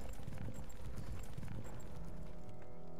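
Horse hooves clip-clop in a Warcraft 3 game scene, a quick, busy patter of many hoofbeats over a steady rumbling bed of game sound, moderately faint and with no voices.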